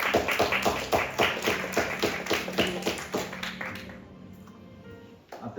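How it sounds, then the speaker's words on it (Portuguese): A church congregation claps together at the close of a Sunday service, a dense run of brisk, rhythmic hand claps that lasts about four seconds and then thins out into quieter room noise. "Uma salva de palmas para nosso Senhor."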